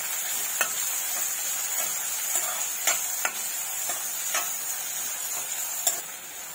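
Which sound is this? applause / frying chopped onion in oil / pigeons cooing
frying chopped onion in oil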